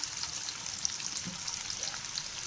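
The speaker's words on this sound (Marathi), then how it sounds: "त्याच्यानंतर एक बारीक कांदा चिरून टाकला, व्यवस्थित परतून घेतला" Chopped onion frying in oil with mustard and cumin seeds in a pan, a steady close hiss and crackle with faint popping, no talking.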